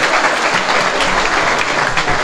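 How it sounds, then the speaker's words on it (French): Loud, steady applause from an audience at a celebration event at a marina port, dense clapping filling the whole moment without pause. "je vais vous demander très amicalement de l'applaudir le plus fortement possible"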